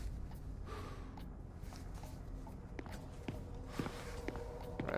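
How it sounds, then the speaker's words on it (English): Faint footsteps in the video game XIII tread in an uneven series of soft thuds, growing slightly more distinct toward the end over a quiet ambient hum. "Right, I hear footsteps."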